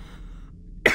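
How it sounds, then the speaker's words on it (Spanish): After a quiet stretch, one short, sharp cough bursts out close to the microphone right at the end. "sigo con la tos"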